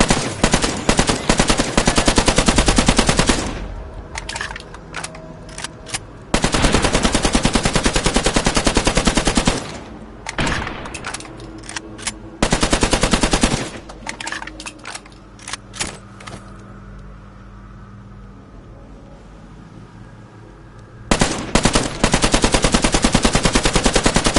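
Long bursts of rapid automatic gunfire in a VR zombie shooter, loud and close, broken by short gaps and quieter stretches with scattered single shots before the firing resumes.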